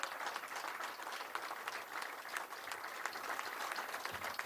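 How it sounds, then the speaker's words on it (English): Steady, fairly distant applause fills a campaign concession event after an Illinois GOP primary for governor, as supporters clap continuously for the team co-chairs with no talk over it. "Let's give our team co-chairs and supporters a round of applause."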